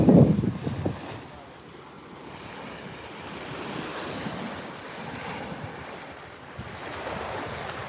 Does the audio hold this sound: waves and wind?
yes